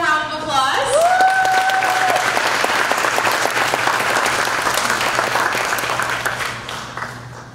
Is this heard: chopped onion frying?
no